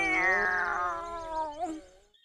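A cartoon cat gives a long, drawn-out meow that slides downward in pitch, loud and close, ending in a brief rising squeak before fading out.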